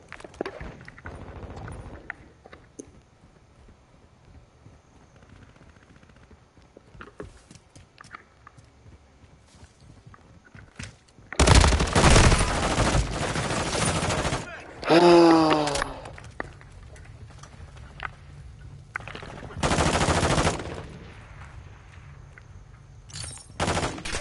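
Automatic gunfire in a modern war video game comes in two loud, dense bursts over quieter footsteps and faint game speech.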